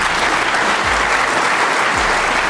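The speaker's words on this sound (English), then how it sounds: "The round of applause from this knowledgeable, crucible audience" A knowledgeable snooker crowd at the Crucible bursts into sustained, dense applause, steady and loud throughout with no pause or talk.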